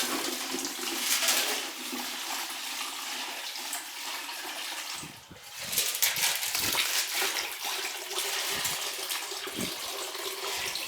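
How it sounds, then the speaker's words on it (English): Vinegar pouring out of a rusty motorcycle fuel tank, a steady splashing gush of liquid lasting around eleven seconds with a brief lull midway, close by and without speech. "So we're going to pour out the vinegar and see what it looks like."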